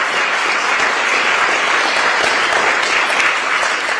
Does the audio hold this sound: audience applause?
yes